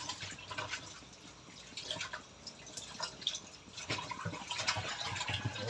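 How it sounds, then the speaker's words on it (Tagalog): Weak tap water running from a faucet in a home kitchen in Rizal, a thin, uneven trickle and drip with scattered splashes, moderately close and steady, with no talk. "Napakahina naman yata ng tubig natin ngayon."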